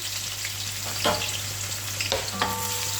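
Sliced onions fry steadily in oil in a pot for chicken biryani, a constant broadband sizzle with a few brief stirring scrapes and clinks rising above it.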